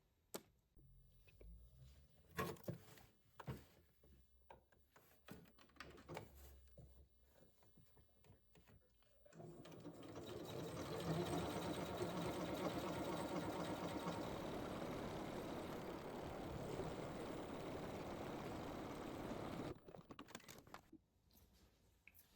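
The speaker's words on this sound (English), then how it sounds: "So now that you've sewn your buttonhole here" A sewing machine stitches a buttonhole on a beginner wrap skirt, running in a steady, dense whir for about ten seconds, preceded by scattered handling clicks and followed by a few more taps.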